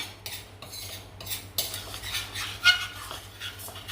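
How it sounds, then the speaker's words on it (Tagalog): A spoon stirring white sugar, brown sugar and cinnamon together in a bowl for an apple crumble cake, with clinks and soft scraping that grow busier partway through, close and fairly quiet. "1 tablespoon of white sugar, and another tablespoon of brown sugar, another 1/2 teaspoon of cinnamon. Haluin po natin ito."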